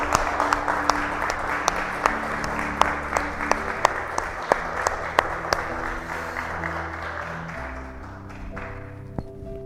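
A church congregation applauds steadily for about ten seconds, with sharp claps standing out over a dense wash of clapping and an organ or keyboard chord sustained underneath, the applause thinning toward the end.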